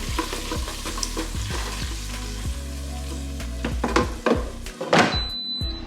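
Pork belly shaken in an air fryer basket, with a rattling jostle over loud fan hum, clunks as the basket is handled, and the hum cutting off near the end.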